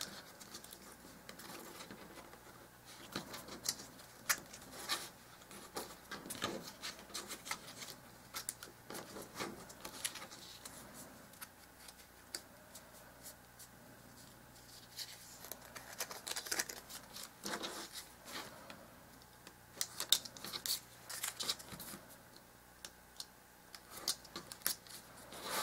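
Scissors snipping paper tabs for dollhouse miniature kitchen cabinets, a quiet run of irregular small cuts and rustles close by, with no talking.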